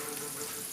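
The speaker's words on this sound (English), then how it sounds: "So right now I have the fat here melting, the butter." Butter and beef burger fat melting in a pan over medium-low heat give off a steady, soft hiss of sizzling, close up and faint, with no voices over it.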